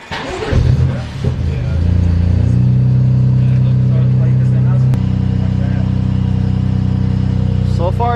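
A BMW F80 M3, freshly retuned, cranks and fires up with a loud rev, then settles into a steady, rumbling idle close by, with a brief shift in tone midway.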